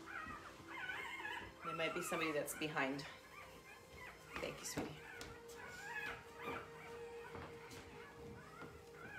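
Newborn puppies, just over a week old, whine and yelp frantically near their nursing mother in a kennel, high-pitched cries coming close and continuous while someone talks softly over them.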